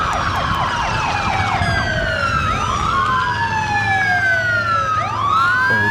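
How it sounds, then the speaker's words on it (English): Police car sirens in news footage, several wailing sirens sweeping up and down and overlapping, loud and close over a low rumble of vehicle traffic, continuous throughout. "cop cars. Look at this, man."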